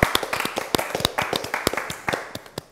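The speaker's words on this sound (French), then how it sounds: "bravo, on peut vous applaudir, bravo." Audience clapping for contestants at a French cooking challenge on savory and sweet pies, heard as sparse, uneven individual claps at close range, a small group rather than a full crowd, with no talk over it.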